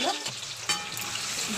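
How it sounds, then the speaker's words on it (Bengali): New potatoes frying in a pan with cumin and bay leaves, a dense continuous sizzle close up with a brief stirring scrape. "আলুগুলো একটু ভালো করে ভাজা হোক।"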